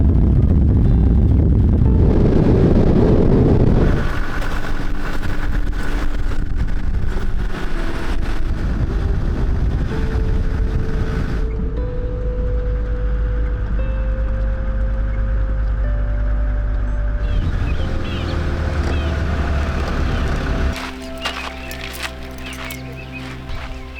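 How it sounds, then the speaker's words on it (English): Vehicle rattling fast over a corrugated dirt road in remote desert country near the Ugab River, a loud continuous rumble and drone with shifting engine tones, no voices. "So you can't go slowly over these corrugations because my dashboard feels like it's just going to jump into my lap."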